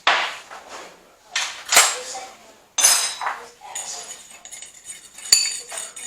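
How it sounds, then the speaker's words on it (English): Chipotle and cumin whisked together in a bowl, quick metallic clinks and scraping taps of a whisk against the dish in short bursts, close and fairly loud, with brief talking between. "we're just going to kind of whisk it together so it's nice"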